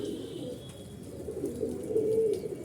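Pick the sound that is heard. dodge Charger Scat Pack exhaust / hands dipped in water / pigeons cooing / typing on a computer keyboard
pigeons cooing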